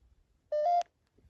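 A single short electronic beep from an EMF meter sounds clearly outdoors at night, lasting about a third of a second, with quiet background before and after.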